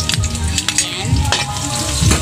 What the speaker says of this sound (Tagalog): igisan naman po natin ang ating pang sauce